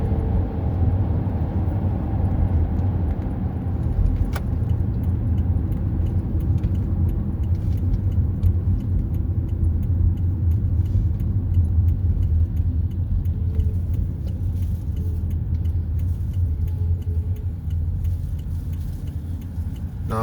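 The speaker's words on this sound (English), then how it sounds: "Just a sneak peek of driving in Arizona or Phoenix" Steady, loud interior road rumble from a car driving a city commute through Phoenix, Arizona, with a continuous low engine and tyre drone throughout and occasional faint rattles.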